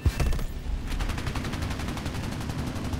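Steady, fast-cycling machine-gun fire from a Sea Gladiator Mk I biplane in the video game War Thunder, a continuous rattling stream of shots heard up close under engine drone.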